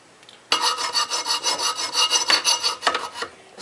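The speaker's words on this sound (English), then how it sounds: "now we're gonna finish off with the file work" Hand file rasping along a steel cleaver blade being shaped, a close, steady series of scraping strokes with a rough, rhythmic back-and-forth texture and no talking.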